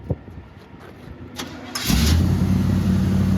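A car engine cranks with help from a jump starter set to 12 volts, catches after a brief whirring churn, and settles into a loud, steady idle close by.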